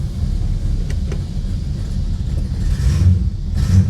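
A 1966 Plymouth Fury II with a 318 V8, bought cheap and suspected of bad points, idles roughly: a steady, close, low rumbling drone with slight unevenness and no voices over it.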